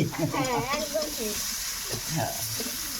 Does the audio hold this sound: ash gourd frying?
yes